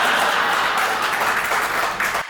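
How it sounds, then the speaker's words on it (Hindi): Audience at a Hindi comic poetry recital (hasya kavi sammelan) clapping enthusiastically, a dense steady wash of applause throughout that dips briefly near the end. "इतनी उछल के ताली बजा रहे"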